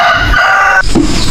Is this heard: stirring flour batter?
no